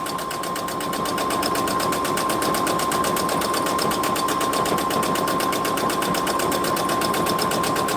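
A sewing machine quilts feather and curl patterns on a mandala quilt, its needle running in a steady, fast, even hum of stitching for the whole stretch, close and alone with no voices.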